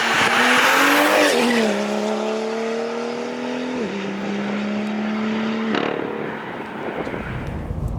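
A BMW M2 F87 with an N55 engine and a loud 3.5-inch flap exhaust roars past under hard acceleration, its engine pitch climbing and stepping through gear changes before fading away.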